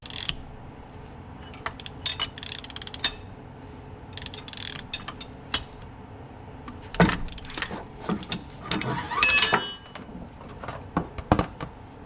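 Tightening the bolt of a bearing puller with a ratchet to draw out a bearing: irregular bursts of close, crisp ratchet clicking mixed with metallic clinks and clanks, with no talking.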